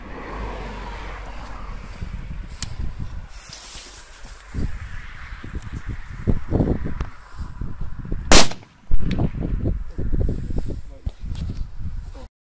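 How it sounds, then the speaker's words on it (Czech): A Dragon Boom firecracker goes off with one sharp, loud bang late in the stretch, preceded and followed by people talking nearby and some rustling outdoors. "První na řadě je petarda Dragon Boom."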